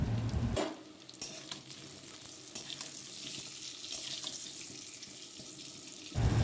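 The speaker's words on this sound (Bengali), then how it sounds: "কড়াইতে প্রথমে তেল দিয়ে এবার আলুগুলোকে একটু নুন হলুদ দিয়ে ভালো করে লাল লাল করে ভেজে নেব।" Potatoes frying in oil in a wok with salt and turmeric, a steady close hiss and sizzle running throughout with faint stirring, opening and closing on louder clatter.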